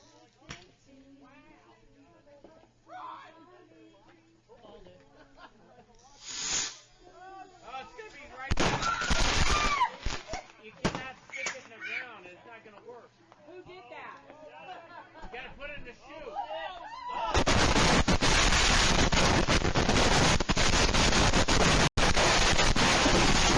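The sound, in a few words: fireworks being set off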